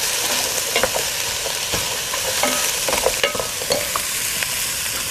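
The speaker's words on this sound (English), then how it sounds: "I'm going to add to my soup kettle here some celery and some carrot" Diced celery and carrot sauté in olive oil in a soup kettle: a steady sizzle broken by repeated stirring scrapes and clicks, close and alone.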